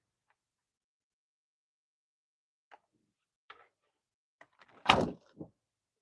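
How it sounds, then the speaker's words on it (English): A craft supply drawer being opened: a few faint, scattered clicks in near silence, then a short, louder sliding scrape and a soft final knock. "That would be this drawer."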